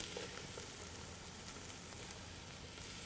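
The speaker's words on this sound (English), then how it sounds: "Sizzling here, getting some nice color" Vegetables for a three bean chili sizzle in a pan, a soft, continuous frying crackle with scattered small pops, heard up close and quiet with no talking.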